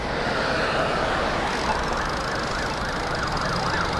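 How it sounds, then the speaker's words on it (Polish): An ambulance siren wails in the distance over steady traffic and wind noise heard from a bicycle, with a rising and falling tone that stays faint and continuous. "O, karetka jedzie, musimy się zatrzymać."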